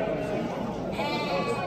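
Sheep and lambs bleat at a Saturday livestock market, faint and somewhat distant amid crowd chatter, with people talking close by over the brief stretch.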